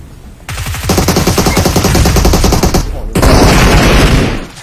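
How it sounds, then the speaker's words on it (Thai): Rapid automatic gunfire rattles in PUBG Mobile, with a long close burst of evenly spaced shots, a short break, then another loud volley. "ผมยิงฟรีแล้วผมยิงไม่โดน"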